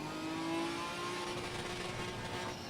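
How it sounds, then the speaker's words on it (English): A GT4 race car engine in Assetto Corsa Competizione holds high revs against the rev limiter, a steady buzzing drone that stutters slightly, loud and close with no talk. "Listen to that limiter, old school limiter."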